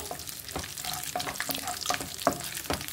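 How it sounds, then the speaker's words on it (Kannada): Cashews frying slowly on low heat in a pan, a gentle sizzle broken by repeated scraping stirs at an even, unhurried rhythm, close and fairly quiet. "ಇದು ಸ್ವಲ್ಪ ಉರಿ ಕಮ್ಮಿ ಇಟ್ಕೊಂಡು ನಿಧಾನವಾಗಿ ಫ್ರೈ ಮಾಡ್ಕೋಬೇಕು"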